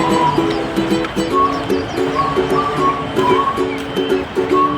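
Heavy, non-stop summer rain pours down in Taiwan near a swollen river, a dense steady hiss filling the whole clip with a faint repeating tonal drone running beneath it.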